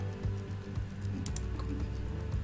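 Ctrl V is pressed on a computer keyboard, giving a few quick, faint key clicks over a steady low hum.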